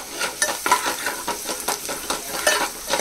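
Sautéed onion with turmeric and homemade Agri Koli masala sizzling in oil, a bright hiss broken by rhythmic spatula scrapes against the pan, close and fairly loud, no voices.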